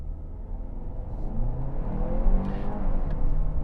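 A 2025 Kia Sorento X-Pro launches at full throttle, a low engine drone swelling steadily as it accelerates, heard from inside the cabin with no talk.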